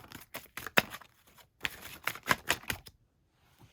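A tarot card deck is reshuffled up close in a run of sharp, papery riffling clicks and snaps in uneven clusters, then the clip goes quiet.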